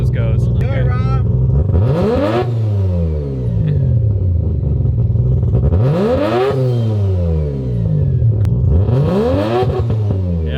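A four-rotor Mazda RX-7 engine is revved hard three times, each loud rising wail climbing and falling over a continuous rough idle, with voices heard faintly underneath.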